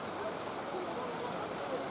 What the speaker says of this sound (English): We're having a downpour of rain.